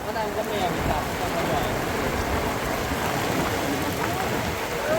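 Steady, dense rain with a broad rushing wash of wind at an outdoor bang fai rocket festival field in Ban Sawang, Samrong, Ubon Ratchathani, Thailand, constant and fairly loud throughout, with no clear voices.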